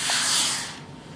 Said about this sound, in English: It's a very hot iron. It's using microfine steam.